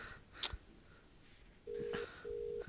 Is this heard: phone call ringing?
yes